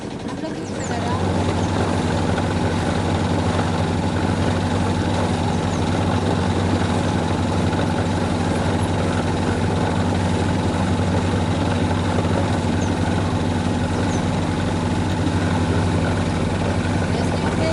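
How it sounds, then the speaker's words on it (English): A steady, loud mechanical drone of a bow thruster running on a sailboat in a marina, a constant engine-like hum continuing unchanged throughout, with a voice speaking over it. "Help you move the bow. Bow thruster."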